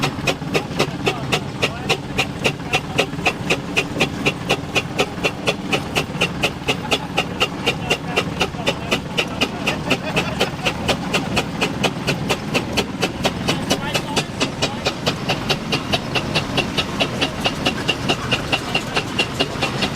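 Steam traction engine running at the Parham steam rally in Sussex, a steady rapid mechanical beat repeating evenly throughout, moderately loud and close, with an indistinct voice faintly underneath.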